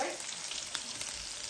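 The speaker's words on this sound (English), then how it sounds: "Let me show you the meatballs cooking away in there." Indian meatballs frying in a hot pan, a steady close sizzle and crackle holding at an even level throughout, with no talking.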